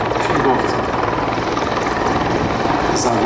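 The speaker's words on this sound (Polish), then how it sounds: "Zwróćmy uwagę, że ten śmigłowiec jest idealnie na tej samej wysokości." A Mi-24 helicopter hovers at the Gdynia Aerobaltic 2021 air show, its loud, close rotor and engine roar a constant throbbing drone, with a voice speaking over it.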